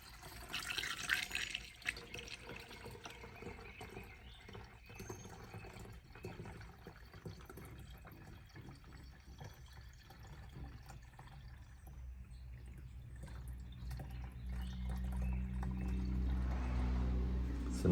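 Engine coolant pours and gurgles into a Mazda 3 reservoir, a continuous close liquid trickle with small drips and splashes that grows fuller and louder toward the end as the tank fills.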